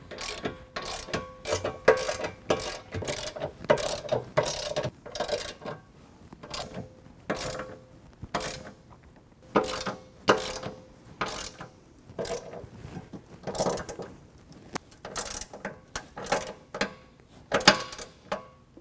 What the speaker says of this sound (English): we'll go ahead and tighten all this hardware down